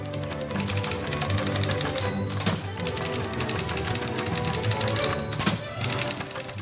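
Fast typewriter keystrokes clack along with an up-tempo song, dense rhythmic music with bright repeated taps and occasional carriage-bell dings, fairly loud and steady throughout.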